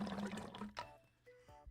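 Water in a plastic bottle gurgles and bubbles in a few uneven bursts, mimicking a bong rip, with short liquid glugs separated by brief quieter gaps.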